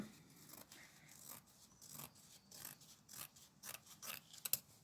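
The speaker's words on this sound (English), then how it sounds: "I am just going to snip off, cut this down a little bit" Scissors snip and trim a piece of material in a series of quiet, close, uneven cuts and scraping clicks, without speech.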